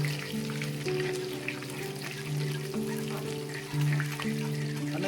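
Chilies, ginger and curry leaves crackle and sizzle in hot oil in a pan, a close, busy spitting texture laid over a steady low kitchen hum.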